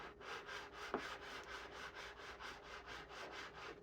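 A knife blade is rubbed back and forth on 1 micron adhesive-backed lapping film in quiet, rhythmic, evenly paced strokes, soft and close with no talking.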